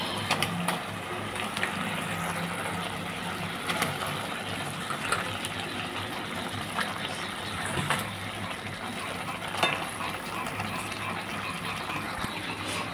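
Marinated meat going piece by piece into a hot pan of spices over a clay stove, giving a steady, continuous sizzle with faint crackles and small scrapes throughout.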